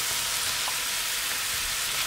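Mushrooms with mixed herbs and soy sauce fry over medium heat in a pan, giving a steady, even sizzling hiss that runs on alone with a few faint stirring knocks.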